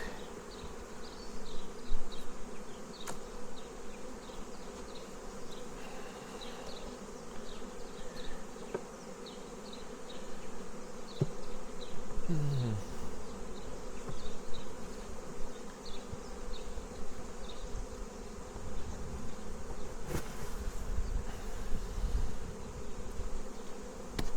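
Honeybees swarm around an opened six-frame hive, a dense, steady buzzing drone that fills the scene close up, with a few louder bees passing near, and no speech.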